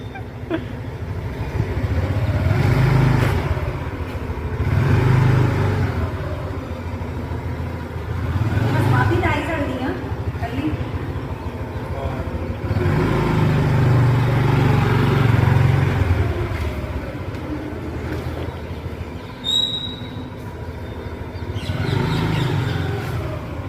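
A scooter being ridden outdoors, its small engine droning and swelling in repeated waves of throttle, with voices talking over the ride.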